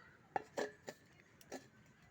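A kadai is placed on the stove for a chicken and taro curry, making a handful of faint, short metallic clinks and knocks spaced out in a quiet kitchen.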